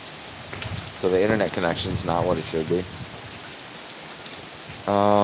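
Heavy rain hisses steadily in the background while someone talks over it, followed by a brief tonal sound at the end.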